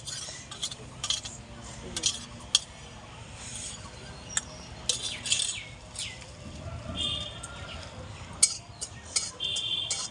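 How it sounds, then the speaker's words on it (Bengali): Salt being dry-roasted in a kadai while mango oil is made, stirred with scraping, clinking metal strokes in irregular bursts; birds chirp faintly in the background. "এই যে লবণটা আমি ভেজে নেব।"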